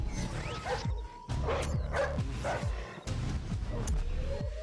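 A guard dog in the stealth game Splinter Cell Blacklist barks and yips several times in irregular bursts, moderately close, over a low rumbling game ambience.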